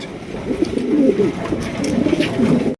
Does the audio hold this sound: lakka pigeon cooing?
yes